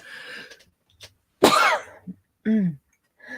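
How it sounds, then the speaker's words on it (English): A person sneezes indoors during a crafting session, a loud sharp burst followed by short breathy sounds, with brief vocal noises before and after. "Oh, I'm going to sneeze."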